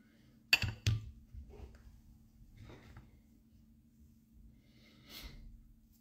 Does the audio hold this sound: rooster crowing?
no